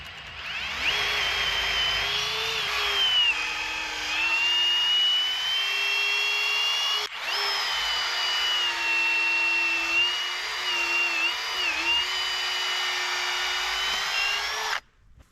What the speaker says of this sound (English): we're going to come to the other side and drill all the way through